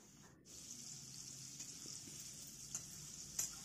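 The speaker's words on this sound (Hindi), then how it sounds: "अब इसमें हम डालेंगे चिकन इसको हम मीडियम लो फ्लेम पे फ्राई करेंगे" Chicken pieces frying in hot refined oil in a kadhai over a medium-low flame give a steady, faint hiss throughout, with a couple of soft clinks toward the end.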